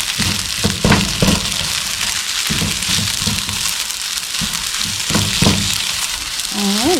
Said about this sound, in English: you can hear my pan sizzling